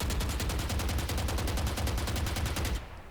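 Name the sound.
rifle gunfire at high fire rate in a shooter video game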